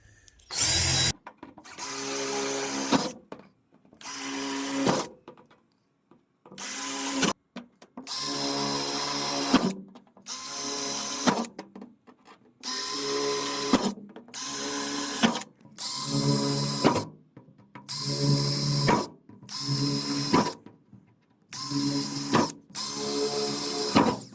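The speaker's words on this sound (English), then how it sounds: "We're going to pre-drill these holes right where the dimples are." A power drill whirs in a series of short bursts while pre-drilling holes, about a dozen separate runs with brief pauses between them, close and loud.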